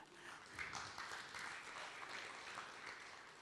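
Faint, half-hearted applause from a church congregation during a sermon, a soft steady patter of scattered clapping that stays low and even throughout.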